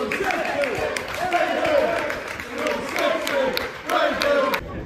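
Football crowd at a Grimsby Town versus Bradford City League Two match, dense stadium noise with rhythmic clapping and swelling chants throughout, loud and close, some voices nearby.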